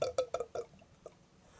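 Bourbon glugging out of a bottle of Willet Pot Still, a run of four quick, close gurgles with a faint extra blip afterward, no talk.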